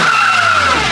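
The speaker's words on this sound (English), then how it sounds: "we're gonna try a third gear burnout." A 39K-mile Honda EG hatchback doing a third-gear tire burnout, with a loud close sustained tire squeal over a steady engine drone.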